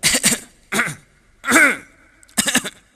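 Four separate coughing bursts, harsh and close, spaced out with short pauses between them.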